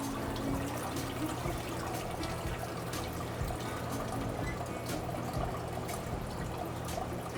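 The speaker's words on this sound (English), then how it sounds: "And now I'm going to take this tall canister out, just slowly. Try to let it just drain that water out." Water drains and trickles steadily out of a tall filter canister being lifted slowly, a continuous splashing pour heard close up with no talking.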